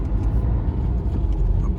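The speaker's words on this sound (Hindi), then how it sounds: "रजौरी गार्डन के पुल पे इतना जाम" Steady road traffic rumble from congested vehicles stuck in a jam on the Rajouri Garden bridge in Delhi, a continuous low drone of engines at moderate level with no distinct horns or voices.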